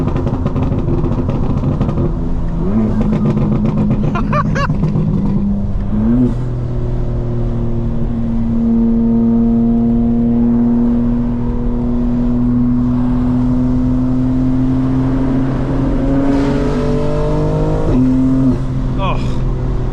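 A tuned 2025 BMW M4 Competition xDrive accelerates at light, part throttle on cold tires, the engine note rising through several gear changes with brief dips between them, close and steady, while someone talks over it.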